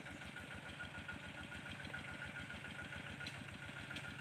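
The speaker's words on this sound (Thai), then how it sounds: "ก็ใช้รถไถเล็กปรับนิดหน่อยครับ" A small farm tractor engine runs steadily at a low idle, with a dense rhythmic chugging throb that holds at an even level throughout, and no talking is heard.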